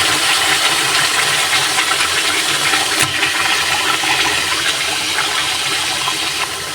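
Lentils tipped into a hot cooking pot for a spiced khichuri, producing a steady broad hiss and rush with one brief clatter midway, fairly loud and without talk.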